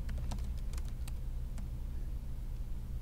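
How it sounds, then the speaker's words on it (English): Fingers type on a computer keyboard in a quick, irregular run of light clicking keystrokes close by, with no one speaking. "I am going to type in central"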